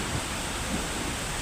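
Heavy rain pours at night during a Kalbaishakhi storm as a loud, unbroken wash of broadband noise with gusty wind mixed in. The roar stays close and steady, and no one speaks.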